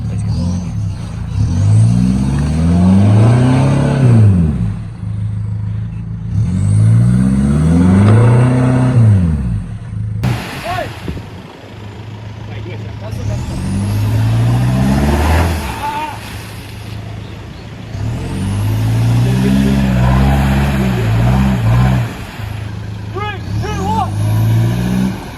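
4x4 off-road vehicle near Lithgow revving hard while driving into a muddy bog hole, loud repeated surging revs that climb and fall in waves, with a brief drop in the middle before the engine roars again.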